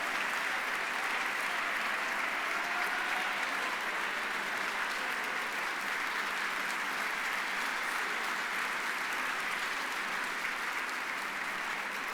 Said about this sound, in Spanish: así que también un aplauso para ellos.